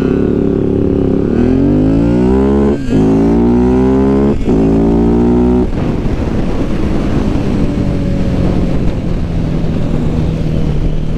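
A vehicle engine accelerates hard in a small race, loud and close, its pitch climbing through several gear changes before settling into a rougher steady roar, with no voices.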